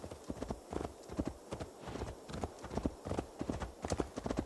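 A warhorse's iron-shod hooves clip-clop in steady, rhythmic trotting beats in Assassin's Creed Valhalla. The hoofbeats are close and clear, and faint game ambience sits beneath them.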